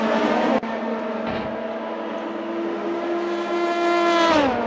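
Race cars at the Le Mans 5 Hours race, a sustained high engine whine holding steady near the listener, then shifting pitch and dropping away at the end.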